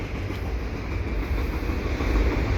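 A CP fast freight train approaches the Dorval ramps in Montreal on a Sunday evening, making a steady, heavy rumble with faint rolling clatter that grows slightly louder, and no voices are heard.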